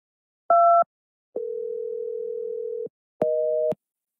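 Telephone tones on a dead phone line inside a Roblox game: a short two-pitch beep, then a long steady tone of about a second and a half, then another brief tone, loud and clean with silent gaps between.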